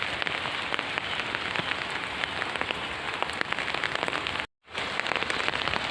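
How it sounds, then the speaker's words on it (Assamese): Heavy rain patters steadily on a surface with scattered drop hits, continuous apart from one brief gap. "বৰষুণত তিতি মাইনাক আনিবলৈ গৈ আছোঁ"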